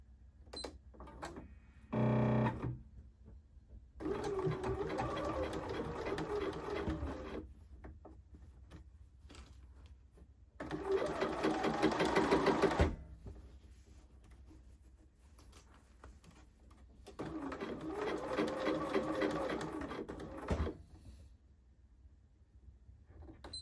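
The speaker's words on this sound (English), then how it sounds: "I'm going to sew the under collar pieces together, their right sides together" Domestic sewing machine stitching two blazer under collar pieces right sides together with a 5/8 inch seam, running in three separate bursts of a few seconds each with quiet pauses between.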